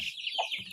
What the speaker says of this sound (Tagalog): Ito na ang aming mga manok na nag-umpisa lang kami guys sa 2 piraso